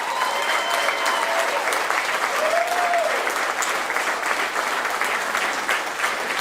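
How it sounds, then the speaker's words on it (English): Sustained applause from a crowd at an election-night gathering, honoring district attorneys and investigators, dense and steady throughout with a few faint cheers and whoops rising above the clapping. "Can y'all give them a round of applause?"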